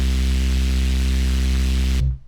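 Xfer Serum synth patch with distortion drive pushed to about 80%, a loud sustained buzzing tone thick with harmonics and a gritty noisy top, holding steady for two seconds before cutting off abruptly.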